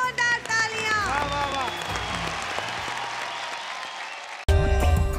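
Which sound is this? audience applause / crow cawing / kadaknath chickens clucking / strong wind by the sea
audience applause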